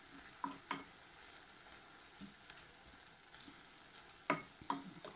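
Beef being stir-fried with fish sauce in a pan, a soft continuous sizzle broken by a few sharp spatula clinks and scrapes, fairly quiet, with no talk.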